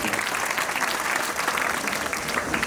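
Audience clapping at a school farewell function, a dense, steady burst of many hands applauding together, loud and continuous throughout.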